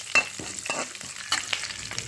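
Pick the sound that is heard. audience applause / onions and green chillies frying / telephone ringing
onions and green chillies frying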